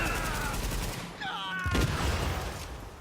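Gunfire in The Division open-world boss fight: a loud burst of shots with sharp broadband cracks mid-clip, set against continuous game ambience and music.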